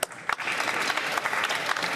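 Applause in the House of Commons during Question Period, a dense, steady clatter of many hands clapping in the chamber that holds at an even level throughout.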